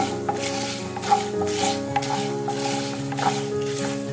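Frying in a pan before semolina goes in for rava idli, a steady sizzle with scraping stirring strokes and light metallic pan clinks, close and continuous, no speech.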